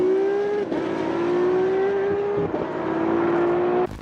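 A Ferrari Enzo with a mid-rear V12 engine revs loud and close. Its pitch climbs steadily through sustained pulls, with short dips between gear changes and a sharp cut at the end. Nobody speaks.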